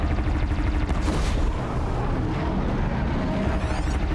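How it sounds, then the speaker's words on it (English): A Thunderjaw machine's disc launcher firing in Horizon Zero Dawn during a fight between two Thunderjaws, heavy booming blasts and rumbling impacts over a dense low roar, loud and continuous with a faint metallic whir near the end. "Oh, disc launcher's firing."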